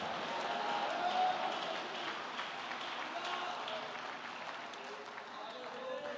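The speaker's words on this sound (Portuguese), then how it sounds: "Aplauda o Senhor" Church congregation at a Portuguese-language sermon applauds, a diffuse wash of clapping that is fairly quiet and distant, fading slightly as it goes on.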